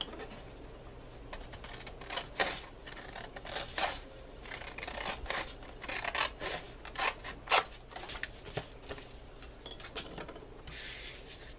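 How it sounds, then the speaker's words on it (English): Scissors snip through paper for a handmade chipboard box in a series of quiet, irregular cutting strokes, close and alone with no talk. "I can cut down the rest of my paper and get rid of that"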